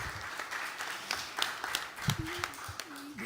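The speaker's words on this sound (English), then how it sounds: "a lot of applause" An audience at a talk on scaling smallholder tree-based systems claps in a sustained round of applause, dense and even throughout, with a voice briefly audible beneath it.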